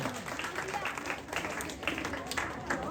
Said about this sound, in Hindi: तालियां बजाते रहे बच्चों के लिए